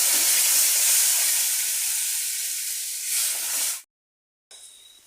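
Tomato paste and masala hitting a hot pan for a Bengali brinjal and stuffed tangra fish dish, giving a loud, steady broadband sizzle that drops briefly to silence, then resumes more faintly.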